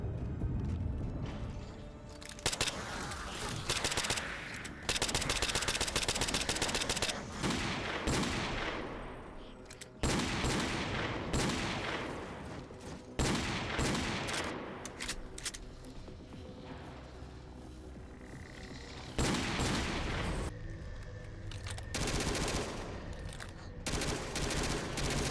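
Dense, loud weapon gunfire from a Halo video game overhaul mod: rapid automatic bursts, heavy single blasts and explosive hits in quick, uneven succession, with brief pauses between volleys.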